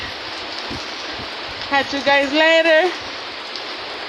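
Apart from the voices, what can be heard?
heavy rain falling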